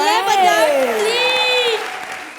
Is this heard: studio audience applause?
yes